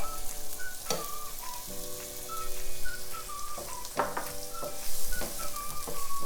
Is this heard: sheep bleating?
no